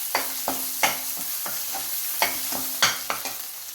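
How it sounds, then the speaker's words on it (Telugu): A paste is stirred into golden tempering sizzling in oil, for a bottle gourd pickle: a steady frying hiss punctuated by regular, rhythmic spoon scrapes and knocks against the pan, close and fairly loud. "తిరగమాత గోల్డెన్ కలర్కి వచ్చినప్పుడు ఈ పేస్ట్ని దీనికి కలిపేయాలండి"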